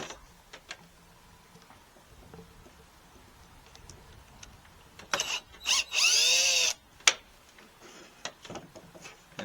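A power screwdriver whirs in a short burst as screws are backed out of a neglected rifle's butt plate during stock cleaning, preceded by faint handling clicks.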